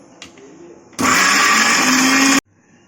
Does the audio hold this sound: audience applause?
no